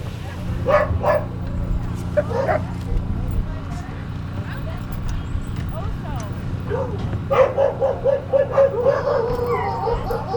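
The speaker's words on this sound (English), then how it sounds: "I just want to watch her take the harnesses off and look at those good dogs." Sled dogs bark, yip and whimper in repeated bursts nearby as their harnesses come off after a race, with people talking intermittently among them.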